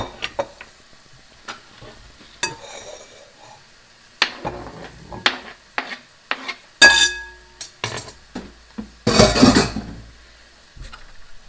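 Broccoli and asparagus dropped into a bowl make scattered soft taps and light clatters, with a few louder rustling clunks near the end, all close and otherwise quiet.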